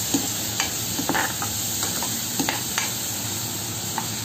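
Onion paste frying in a pan, heard as a steady sizzle with close scraping and stirring clicks scattered across the stretch over a constant background hum.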